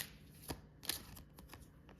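Playing cards shuffled to draw one more card in a quiet room, with a couple of soft riffling bursts and light flicks at close range and no talking.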